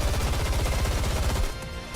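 Rapid automatic gunfire from a Nikke video game cutscene, a dense, loud rattle of close shots that cuts off abruptly and leaves a quieter ringing tail.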